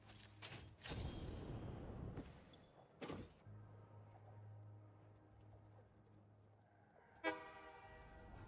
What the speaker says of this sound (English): Pretty sure there's just a bauxite train.